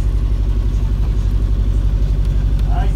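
The inboard engine of an Albin Ballad 30ft sailboat running in a boatyard, a steady close, loud, throbbing low rumble with a regular pulse, with people talking briefly over it.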